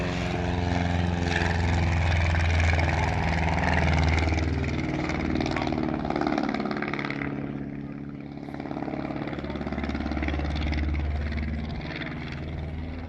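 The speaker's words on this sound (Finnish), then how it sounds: "voitte ihailla hänen kuvioitessa SE-5 lentokoneella" A Royal Aircraft Factory S.E.5a biplane's propeller engine drones continuously at an airshow, rising and falling slightly as it flies past, with a voice speaking over the engine noise.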